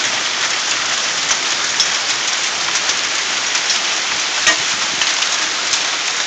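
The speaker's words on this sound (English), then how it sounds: "hail coming off my roof." Hail falls on a house roof and bounces off it in a dense, steady patter of many small hits, with occasional louder individual strikes, close by and with no talk.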